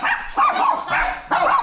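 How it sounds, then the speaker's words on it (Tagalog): Several dogs bark near a motorcycle checkpoint on a road, four loud, close bursts in quick succession with short gaps. "Oh, ang dami ng aso."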